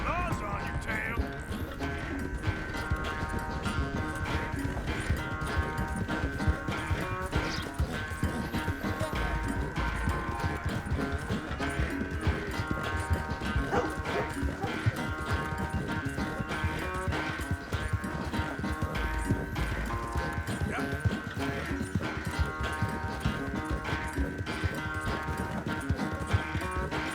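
A horse gallops in Red Dead Redemption 2, its rapid steady hoofbeats running without a break under game music and ambience for the whole stretch, with a few voice lines over it.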